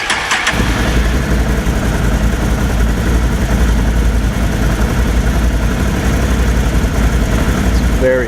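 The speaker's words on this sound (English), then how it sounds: "I've always preferred the sound of a twin-cylinder ATV" A 2019 Can-Am Outlander 1000R twin-cylinder ATV idles loud and close with a steady low rumble, a brief startup burst at the very beginning, and the engine running continuously throughout.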